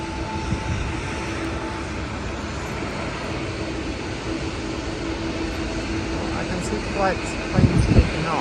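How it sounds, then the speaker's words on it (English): Airplanes taking off at Haneda Airport in Tokyo, heard as a constant broad jet roar from a distance, filling the whole stretch and swelling slightly near the end. "Planes taking off."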